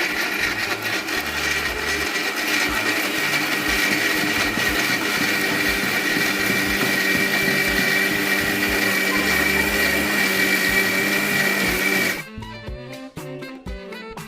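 A mixer grinder whirs loudly and steadily as it blends mango pieces with sugar, running for about twelve seconds before cutting off abruptly into quieter clattering.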